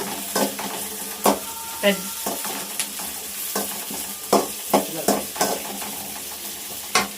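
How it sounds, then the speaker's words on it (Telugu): Chopped garlic and onions fry in hot oil for Bangalore-style gobi manchurian, giving a steady close sizzle broken by repeated scraping stirs of a spatula in the pan. No one speaks. "ఆయిల్ వేడెక్కిన తర్వాత తరిగిన వెల్లుల్లి చిన్నది, తర్వాత ఉల్లిపాయలు ఇలాగ కాస్త వేపుకున్న తర్వాత"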